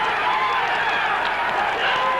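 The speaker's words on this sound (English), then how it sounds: "The crowd is on its feet here now." A 1978 boxing crowd on its feet, a dense roar of cheering and shouting that fills the whole stretch at high volume.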